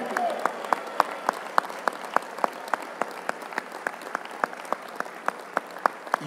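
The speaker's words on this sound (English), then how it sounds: "Would you give a thunderous applause, make some noise, and clap your hands all over this room?" A standing audience applauds at a 100 Black Men conference, with sharp, distinct claps ringing over a softer crowd wash at a steady, moderate level; a voice briefly stirs at the very end.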